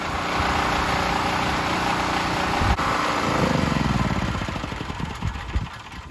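A gas generator powering an above-ground pool's pump runs steadily and loud throughout, with a brief thump near the middle and the engine drone wavering slightly toward the end.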